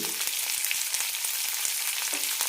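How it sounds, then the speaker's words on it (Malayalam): Sliced onion, curry leaves and garlic cloves sizzling in a pan, a brief continuous hiss with light crackling and faint stirring. "ഇനി ഇതിലേക്ക് സവാള ഇടാം കുറച്ച് കറിവേപ്പിലയും രണ്ട് വെളുത്തുള്ളി"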